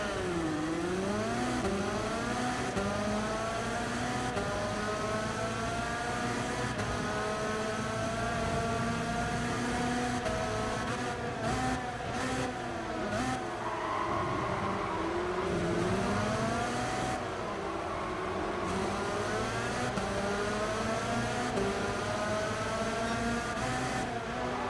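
A race car engine in Gran Turismo 7 revs continuously with rising and falling pitch sweeps through gear changes, loud and close throughout the whole stretch with no talk over it.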